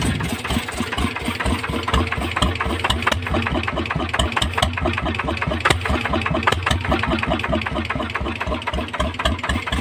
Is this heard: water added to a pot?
no